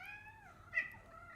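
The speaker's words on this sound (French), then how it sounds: "Mon chat rejoint la conversation, ça l'intéresse." A house cat meows softly indoors, a drawn-out faint meow with a brief louder chirp in the middle, heard alone without talk.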